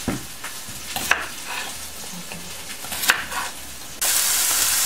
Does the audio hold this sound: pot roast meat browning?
yes